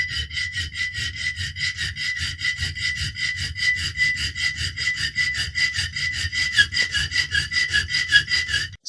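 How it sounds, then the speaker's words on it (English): Hand file rasping square holes in metal roof clips to fit coach bolts on a Ducato/Relay/Boxer van, a steady rhythmic back-and-forth of about twenty close, loud strokes with no talking. "the next procedure is to file those holes out to a square"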